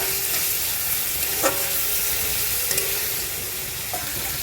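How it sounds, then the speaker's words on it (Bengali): Garlic sizzles in hot oil in a pan for a Bengali kakrol and potato sabji, a steady close frying hiss with a few soft stirring clinks. "রসুন দিয়ে দিলাম। এবার এটা ভাজতে হবে।"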